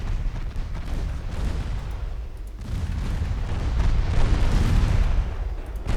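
12-inch naval guns firing in Ultimate Admiral: Dreadnoughts, a dense rumble of heavy booms rolling over one another with a short lull in the middle, then swelling louder again, with no voices.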